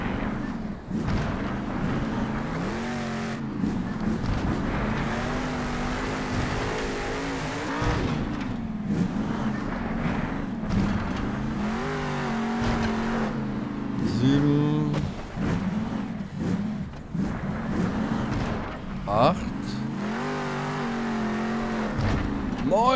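A monster truck engine drones and revs while driving around in the video game Monster Jam Steel Titans, its pitch rising and falling with throttle changes, loud and close, with occasional tire noise.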